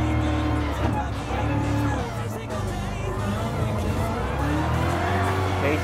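Race car braking at Le Mans in Gran Turismo Sport, a loud engine drone whose pitch drops and shifts as the car slows, with faint tire noise, while a person talks over it.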